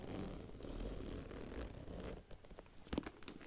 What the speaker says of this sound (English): It's a really good zipper sound.